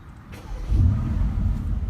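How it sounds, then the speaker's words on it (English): A 2016 Mercedes-AMG GT S Coupe engine starts with a push-button crank, then a deep low rumble swells and settles into a steady idle. "we're gonna go ahead and start with starting the car"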